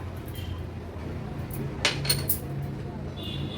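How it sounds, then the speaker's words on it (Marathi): A spoon scoops gram flour (besan) into a bowl in a home kitchen, giving a few quiet metallic clinks against the bowl over a soft, steady room hiss. "सर्वात आधी ह्या बोलमध्ये आपण 1 चमचा बेसनचं पीठ काढून घेऊया।"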